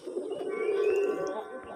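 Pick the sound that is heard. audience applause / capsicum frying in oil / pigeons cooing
pigeons cooing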